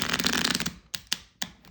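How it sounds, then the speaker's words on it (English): Card-stock playing cards shuffled by hand, a dense rifling flutter for the first half second, then three crisp separate snaps as the deck is squared and bridged, close and clear with no talking. "they shuffle beautifully when you're shuffling them correctly"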